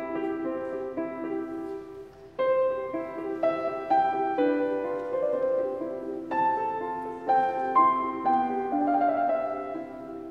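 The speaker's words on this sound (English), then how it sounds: "where the left hand has this kind of broken chord figure, which sounds a bit like this." Left-hand Alberti bass on piano, a broken-chord figure that repeats in a steady, even rhythm beneath sustained melody notes, played moderately loud and close for about ten seconds with no talking.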